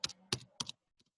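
Three short bursts of computer keyboard typing, each a quick cluster of key clicks, then a couple of faint taps; close and alone with no talking.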